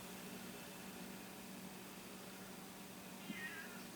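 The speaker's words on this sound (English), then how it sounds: "It just sounded like a really long meow." A domestic cat gives a long, drawn-out meow near the end, faint and somewhat distant over a steady hum of background room noise.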